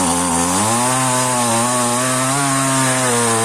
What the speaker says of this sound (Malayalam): ബാക്കിയുള്ള മരങ്ങൾ കൂടി വെട്ടിമാറ്റാൻ വേണ്ടി പോവാണ്